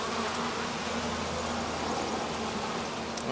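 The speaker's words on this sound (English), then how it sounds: "This is the first time I ever shook a swarm in my life." A mass of bees from a swarm just shaken loose, buzzing as a dense, steady drone that fills the whole stretch at a constant moderate level, with no voices over it.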